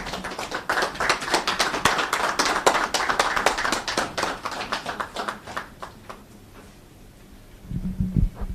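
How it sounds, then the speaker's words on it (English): Audience applause for a speaker taking the floor at an International Women's Day celebration, a burst of fairly close, distinct claps that thins out and fades, followed by a brief moment of voice at the end. "Let's give her a round of applause as she takes the floor."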